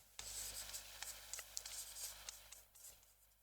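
Chalk or a marker moves across a board during a math lesson, making faint scratchy strokes and taps in short irregular bursts against a steady low hum.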